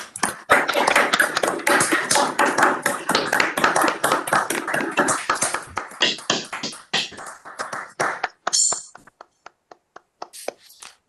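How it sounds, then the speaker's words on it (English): Scattered virtual applause at a conference, claps and taps from many participants coming through their microphones, dense at first and then thinning into isolated claps and clinks. "shall we try to switch on our microphone for a virtual applause?"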